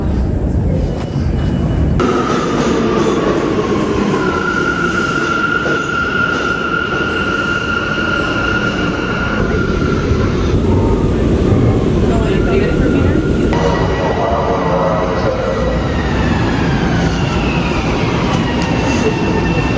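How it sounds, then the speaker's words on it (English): A commuter train ride, with steady rumbling wheels and rail noise throughout, whining tones rising and falling as it moves, and a voice now and then under the din. "I'm off the train."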